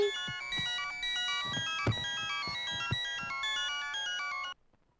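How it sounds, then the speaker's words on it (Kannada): A telephone ringtone plays as a bright melodic electronic tune with repeating notes, fairly close, then cuts off abruptly near the end. "Daddy phone."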